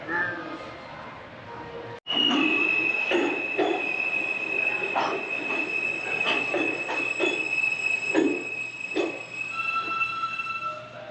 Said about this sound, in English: we're just waiting for the next subway to take us back across the river